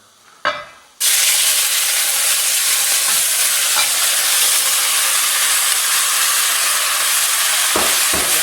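Shrimp for chipotle tacos frying in a hot pan, a steady loud sizzle and hiss that starts abruptly after a brief clatter and runs continuously, with a couple of faint stirring knocks near the end.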